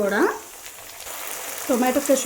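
Schezwan sauce and tomato ketchup hit a frying pan for a red-sauce creamy pasta, producing a brief soft hiss and sizzle between short bursts of a nearby voice.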